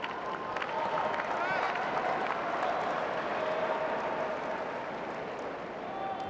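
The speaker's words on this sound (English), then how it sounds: "Definitely some nervous applause from this crowd." Tennis crowd at the 2024 US Open women's match between Jessica Pegula and Aryna Sabalenka giving tense applause, a steady wash of clapping and murmuring with voices talking over it throughout.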